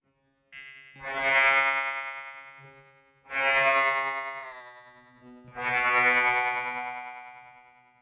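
Three sustained synth-like tones from a Boss RC-505 MK2 flanger effect, each swelling in and slowly fading, with a sweeping, whooshing flanger shimmer and a bending pitch.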